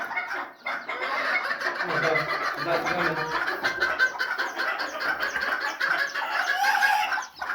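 Hens and chickens clucking together in a dense, continuous chorus from a poultry flock, steady and fairly close with overlapping calls throughout.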